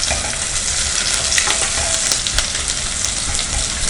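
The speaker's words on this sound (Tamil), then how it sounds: "வெங்காயம் வந்து நல்லா ஃப்ரை ஆகணும்." Onions frying in a pan for mushroom biryani produce a loud, continuous sizzle dense with crackles and pops, close up and without any voices.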